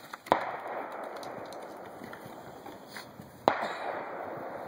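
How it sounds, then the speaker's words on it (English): Two sharp 12 gauge shotgun blasts from Hornady Zombie Max shells, spaced about three seconds apart, each a sudden crack trailing into a steady outdoor hiss. "12 gauge, shotgun."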